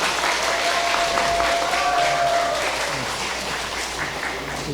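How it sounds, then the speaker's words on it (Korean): Steady applause from a crowd at a network launch ceremony in Seoul fills the whole stretch, dense and even, with a brief tonal whistle or feedback ringing through the middle. "뜨거운 박수로 맞이해 주시기 바랍니다"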